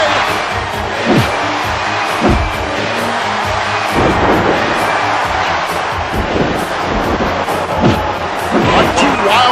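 A capacity wrestling arena crowd at a WWF Royal Rumble match roars and cheers continuously, a dense loud wash of noise with swelling bursts throughout, under commentary talk.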